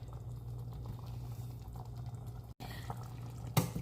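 A steady, bubbling simmer of thick spinach and paneer gravy in a pan, soft and continuous, with a brief cut partway through and a small clatter near the end.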